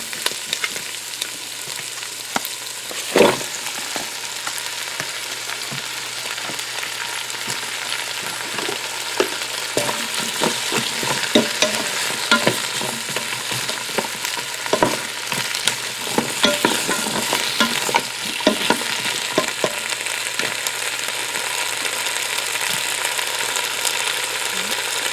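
Potatoes and carrots fry in a Ninja Foodi, a steady close sizzle with frequent scraping and stirring clatter over a low hum, and no talk.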